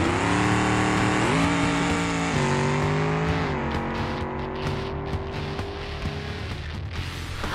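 A BeamNG Moonhawk, smoking badly and losing power, revs hard in a drag race, its engine note climbing and holding through several gear steps before fading toward higher rasping sound, loud and close with no talk.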